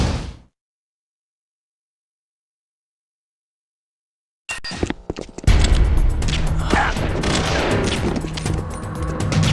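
Heavy gunfire in Metal Gear Solid: The Twin Snakes erupts after several seconds of silence, starting as scattered sharp shots and swelling into a loud, continuous barrage.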